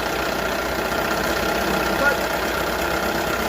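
A 1978 Johnson 6 hp outboard motor runs steadily at idle with a low, even drone, close by and unbroken. A brief spoken word sits over it.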